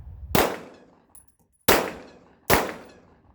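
Three sharp rifle shots of reduced-recoil ammunition at an outdoor zeroing session, loud and close, the first standing alone and the last two about a second apart, each with a short ringing decay.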